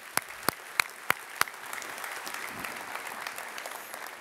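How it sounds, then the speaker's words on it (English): Keynote audience applause at DockerCon: a handful of sharp, separate claps opens, then a steady, fairly distant wash of crowd clapping carries on to the end. "Let's give them another round of applause."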